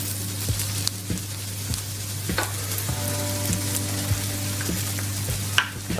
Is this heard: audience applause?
no